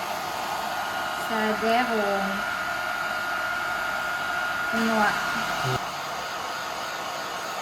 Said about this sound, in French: en faisant des cercles comme ça, avec le sèche-cheveux pas trop fort